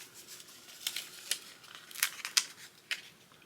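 Cricut removable vinyl decal backing peeled off by hand, a quiet series of short crinkly, papery rips and ticks at close range, with no talking.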